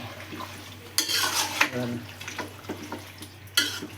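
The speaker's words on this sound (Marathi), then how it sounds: "हे बघा चांगलं असं हलवून घेऊ." Mutton soup stirred in a pot, close wet scraping and swirling strokes with occasional utensil clinks, a few sharper knocks against the pot's side.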